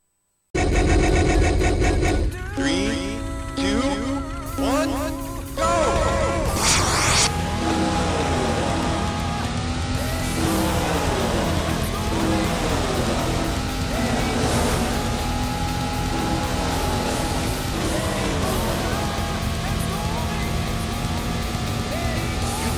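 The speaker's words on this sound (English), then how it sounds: "Gentlemen, start your engine." Race car engines in the 1996 PC version of the arcade racing game Daytona USA roar loudly and continuously, revving and shifting pitch as the cars speed along, with a brief announcer voice near the start.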